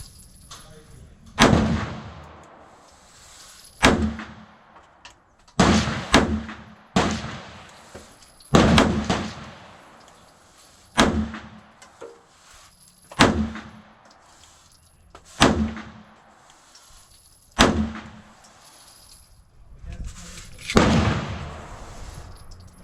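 Bulgarian Makarov pistol, just repaired, firing steel-cased ammunition: about ten sharp, loud single shots spaced a couple of seconds apart, each with a short ringing decay, no talking between them.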